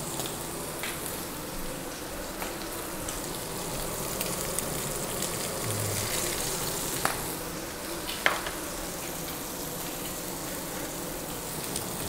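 Steak sears in a cast iron pan with a steady, close sizzle and hiss that hold throughout, marked by a couple of sharper pops and crackles, with no voices.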